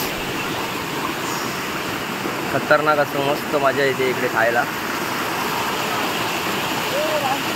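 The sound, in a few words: flowing stream water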